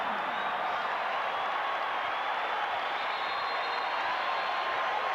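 A basketball arena crowd, Bulls versus Pistons in 1989, on its feet cheering: a steady, broad roar of many voices and applause holding evenly throughout.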